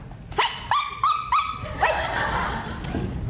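A dog gives four quick yelping barks in a short burst, close by, followed by a fainter whine against a low background murmur.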